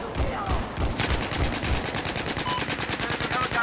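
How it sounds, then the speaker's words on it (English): Rapid automatic gunfire in Battlefield 4, a dense unbroken burst of shots that grows steadier and sharper after the first second, loud and close throughout. "Somebody's shooting me."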